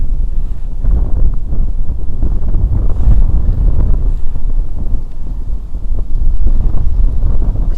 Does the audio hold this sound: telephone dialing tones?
no